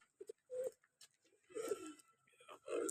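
Pigeons coo softly nearby in short throaty bursts, several calls spaced across the moment amid faint background hush.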